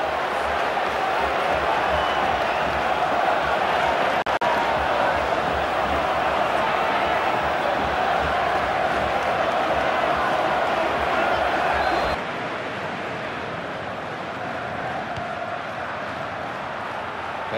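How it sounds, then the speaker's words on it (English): A dense stadium crowd in the FIFA 15 football video game roars steadily after a goal, loud and continuous before dropping to a lower murmur, with a commentator talking over it. "the crowd behind the goal are in raptures"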